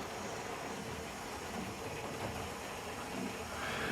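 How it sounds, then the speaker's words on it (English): A Hornby model of a GWR 14XX locomotive, recovered from a wet, leaky shed, runs around its track with a steady, continuous whirring rumble at a low level and no voices. "Just watch her go around there now. Magnificent GWR 14XX."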